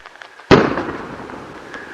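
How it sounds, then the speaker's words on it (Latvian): Anti-personnel landmines explode in one sudden sharp blast that rings out and decays over about a second and a half into a rumbling tail, with a few faint pops before it. "Daudzas kājinieku mīnas sprāga"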